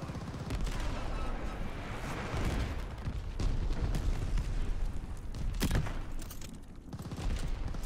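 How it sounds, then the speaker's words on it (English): Heavy wartime battle din in a video game as an enemy glide bomb strikes, with a dense, continuous roar of gunfire and explosions and several sharp blasts cutting through, loud throughout. "An enemy glide bomb on the way."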